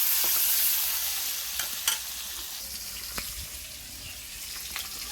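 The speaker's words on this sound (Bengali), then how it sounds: "কড়াতে আমি সরষের তেল দিয়েছি, দিয়ে দেবো পেঁয়াজ। পেঁয়াজ কুচিটা ভালো করে লাল লাল করে ভেজে নেব।" Chopped onions fry in mustard oil in a wok with a steady, close sizzle and a few light clicks of stirring, and no talking.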